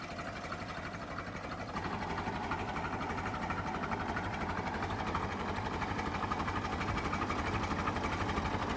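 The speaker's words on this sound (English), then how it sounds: "the Farmall Super MTA diesel. Best tractor in my collection." A Farmall Super MTA diesel tractor engine idles slowly at about 350 to 400 RPM, a low, steady, even chugging pulse close by that runs on without break and without talk.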